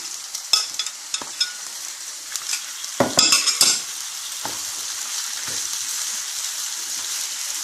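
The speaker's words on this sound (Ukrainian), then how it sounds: "Тоді ми викидуємо сюди відварені маслючки." Boiled butter mushrooms dropped into a hot pan and stirred: a burst of loud sizzling and spatter as they hit, a few utensil clinks and scrapes, then a steady softer frying hiss, close up.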